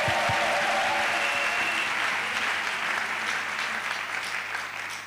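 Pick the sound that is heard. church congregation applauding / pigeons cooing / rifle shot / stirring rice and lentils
church congregation applauding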